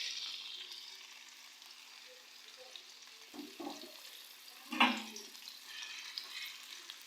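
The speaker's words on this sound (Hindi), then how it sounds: "अब मैं इसमें ऐड कर रही हूँ 2 अदद मीडियम साइज़ के प्याज।" Two medium-sized onions sizzle in hot oil, a soft, steady frying hiss with a couple of brief louder bursts midway as they hit the pan, for a home-cooked keema with capsicum.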